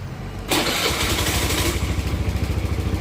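Honda Scoopy i motorcycle with a faulty fuel pump, engine catching after a brief low rumble and then revving loudly and steadily up close with a rough, pulsing tone.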